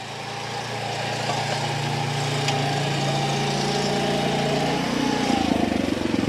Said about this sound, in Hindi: आप देख सकते हैं किसान भाइयों 10 HP की मशीन है ये, और भरी हुई ट्रॉली को कितनी आसानी से खींच के ले जा रही है।